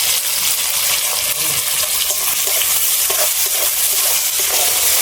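Onion and tomato pieces fry in a pan with a loud, steady sizzle, broken by scattered scrapes and clinks of a spoon stirring through the mixture, close up and with no voices.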